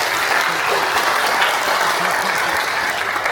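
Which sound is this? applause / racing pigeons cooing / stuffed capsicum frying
applause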